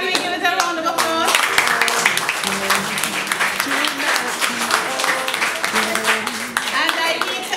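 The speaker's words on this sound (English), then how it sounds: "can we give it a round of applause?" Audience clapping at a mental health initiative event, a dense round of applause rising and staying strong while music with sustained tones plays over it and a voice speaks briefly near the start.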